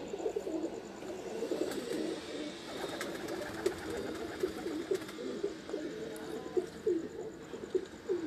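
Pigeons coo softly and repeatedly on a rooftop, their low rolling calls layered over a steady outdoor hum, with faint chirps and distant background noise throughout.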